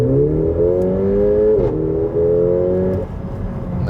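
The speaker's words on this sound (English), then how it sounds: "what about when you go from 50 kilometers to 90, Sport Plus mode, I'm hammering it" A Mercedes-AMG CLA 45 coupé engine revs hard with rising pitch as it accelerates from 50 to 90 km/h in Sport Plus mode, loud and close, with a brief gear change before climbing again and easing off.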